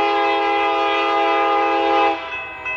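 Montana Rail Link helper locomotives running light downgrade on Mullan Pass sound a loud, sustained multi-tone horn chord that holds steady and then drops off near the end.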